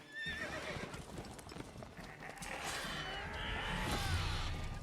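Horse in The Witcher 3 video game whinnying in a high, wavering call over clip-clopping hooves, close and fairly loud, with busy game ambience around it.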